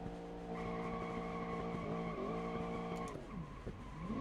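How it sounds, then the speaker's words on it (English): A V8 muscle car in a video game revs hard into a burnout, a loud sustained engine drone with tyres squealing over it, pitch wavering and dipping toward the end as grip changes. "let's see if we can do a quick burnout"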